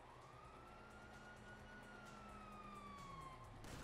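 A police siren in the video game GTA V wails, rising and falling steadily over a dense mechanical background, continuous and fairly loud throughout.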